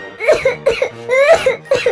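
A human voice imitates a crow coughing in chilli smoke as a story sound effect, with four short, harsh, throaty coughs in quick succession, close and fairly loud.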